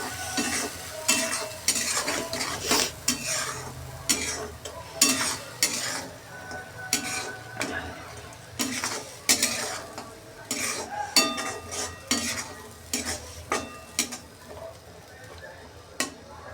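A pan of green chickpea masala with a ground paste of peanuts, coconut and garlic is being sautéed, the spatula clacking and scraping in a steady rhythm over a soft, constant sizzle close by.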